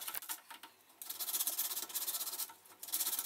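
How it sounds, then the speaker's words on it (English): Sandpaper rubs against a spinning wooden knob held in a chuck, a close, gritty scratching that starts soft and then continues in rhythmic strokes. "Just going to use some sandpaper"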